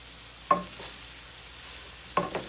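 A spoon knocks twice against a pan while chopped mushrooms are mixed into a lasagna filling with peppers, each short clack separated by quiet, close and without speech.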